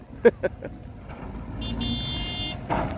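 A few short horn-like toots sound early, followed by a sustained tonal honk over rumbling road traffic and engine noise.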